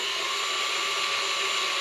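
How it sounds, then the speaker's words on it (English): Small drill bit boring slowly through a PPG helmet shell, a steady high-pitched motor whine held at an even level throughout, close and alone with no talk. "we're going to drill it out with the smaller drill bit"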